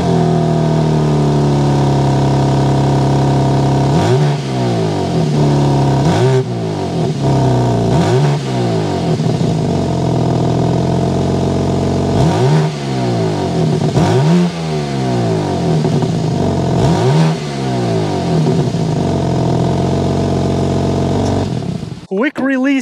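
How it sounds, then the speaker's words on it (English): A 2023 BMW M4 Competition with xDrive all-wheel drive starts up, then its exhaust barks through a series of loud, repeated revs that climb and fall over a deep idle, close and dominant throughout. "We need to go inside, start it up so you can hear that exhaust note."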